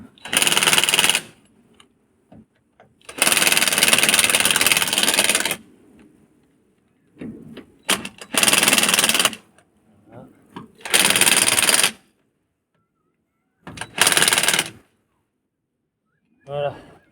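An impact wrench tightens a wheel nut on a Ford 550 with a flat tire. It fires in about five loud, rattling bursts of one to two seconds each, close up, with quiet gaps and someone talking between them.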